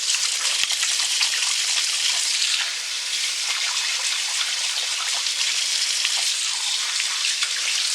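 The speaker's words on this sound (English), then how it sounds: "I'm just going to wash my hands." Hands being washed under a running kitchen tap while cooking lamb curry at home, a steady close hiss of flowing water splashing continuously throughout, with no talking.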